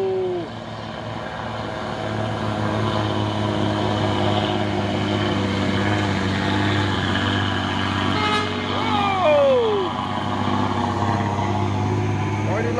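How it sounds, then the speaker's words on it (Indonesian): Fuso trailer truck hauling a shipping container on a road, its steady low engine drone continuous throughout with a brief horn-like tone near the end, while another voice speaks over the traffic noise. "Truk trailer Puso membawa kontainer"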